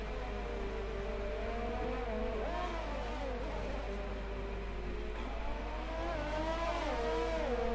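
Race cars running wheel to wheel in a Formula-style racing video game, engines whining and shifting pitch steadily under a constant low hum, with no talk.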